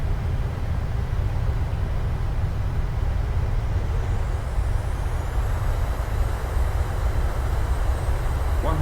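Boeing 737-800 freighter engines in reverse thrust just after landing: a steady, loud low roar of engine and runway noise, with a faint rising whine later on and no talk.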